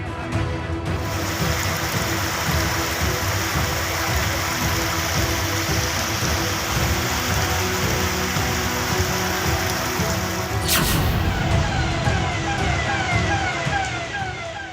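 Heavy monsoon rain pours steadily during flooding in Betul, Madhya Pradesh, a dense, loud hiss that holds throughout, with a siren-like wail running along underneath and a brief surge in intensity near the end.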